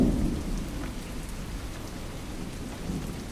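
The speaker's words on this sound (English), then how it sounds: "Heavy rains and heavy winds can ground many of the flying insects" Heavy rain pours steadily with gusting wind and low rumbling, a dense, continuous roar of water at close range without any voices.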